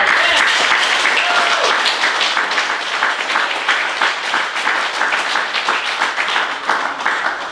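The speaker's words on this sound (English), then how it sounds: "Give them a good round of applause." Sustained applause from a banquet audience honoring truck drivers at a transport company safety awards dinner, dense overlapping clapping that stays full and even for several seconds before easing slightly.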